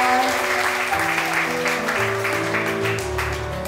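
Applause from an audience at an indoor political meeting, a dense, steady patter of many hands that carries on for a few seconds and softens slightly near the end.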